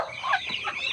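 Chickens clucking close by in a coop shared with ducks, a few overlapping short calls in quick succession.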